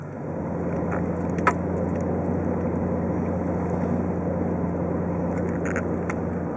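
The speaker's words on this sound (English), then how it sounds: "So we got the brakes done, and now it's time for a quick test ride" Chevrolet Silverado pickup driving on a test ride after a disc brake service, a steady low engine and road drone heard from inside the cab, with faint clicks and rattles.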